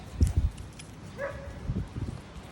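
Dogs during recall training yip and bark in short bursts, then one lets out a rising whimper, followed by more scattered barks, fairly close with outdoor background.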